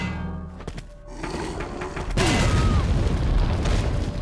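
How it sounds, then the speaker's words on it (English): Heavy booming grenade blasts in the video game Resident Evil 4: a few dull thuds early on, then a loud, sustained rumbling explosion that fills the rest of the clip. "Alright, so we're going to start him off with some grenades."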